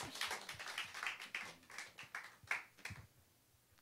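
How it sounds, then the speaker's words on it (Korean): A small Korean church congregation gives a round of applause during a Sunday service, scattered, uneven claps from a modest group that come in irregular bursts, fairly quiet and close, thinning out toward the end. "다시 한번 큰 박수 해주시기 바랍니다."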